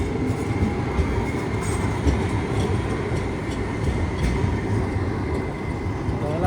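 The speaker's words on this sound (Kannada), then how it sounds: "ಇಲ್ಲಿನ ಟ್ರಾಮು ಎಷ್ಟು ಸಖತ್ತಾಗಿದೆ," A tram rolls through a railway station in Luxembourg, a steady close rumble of wheels and motor with faint clatter, continuous throughout with no clear talk over it.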